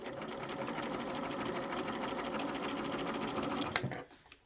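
A sewing machine runs steadily while stitching LeMoyne Star quilt pieces with diamonds and set-in corners, a continuous close motor whir with a rapid needle chatter that stops abruptly near the end.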